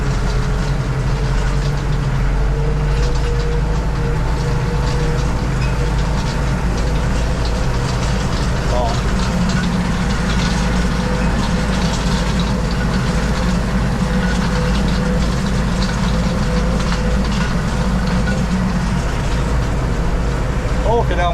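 A diesel tractor engine pulls a fertiliser spreader, holding a loud, steady low drone with a constant rumble throughout and no break in the sound.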